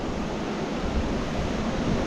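A forest waterfall produces a constant, even rush of pouring water, a close and dense roar that stays level throughout with no voices.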